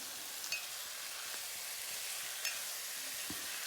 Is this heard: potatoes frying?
yes